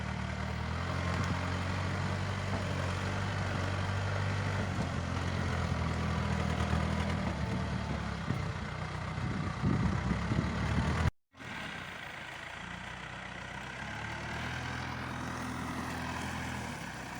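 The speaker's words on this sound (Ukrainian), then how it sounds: "Зараз тракторист просто катається для того, щоб його трамбувати" A tractor's engine runs steadily as it drives back and forth to compact a gravel road, a constant close rumble with a brief cutout near the end before the engine noise resumes.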